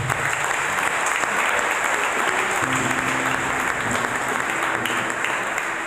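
A church congregation applauding to acclaim the Lord, steady dense clapping sustained throughout without a break, loud and filling the room, with faint voices mixed in underneath.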